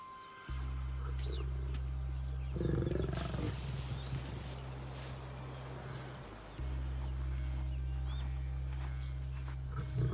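A lioness roars in the wild. Loud low roaring runs through most of the stretch, with a brief break near the middle, and faint birds sit in the background.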